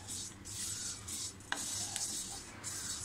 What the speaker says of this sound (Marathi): हे बघा, असे सतत आपल्याला ढवळत राहायचे आहेत.